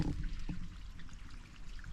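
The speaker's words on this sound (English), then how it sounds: "there's water running down here" Water running down a small channel on a small island at a wild camp, a soft steady trickle and pour close by, faint and continuous with no talk.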